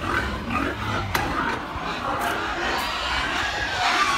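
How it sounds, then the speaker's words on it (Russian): Pigs in farm pens grunt and squeal in a busy, continuous chorus with a few sharp louder cries, mixed with barn noise and some indistinct voices. "Такие свинюшки."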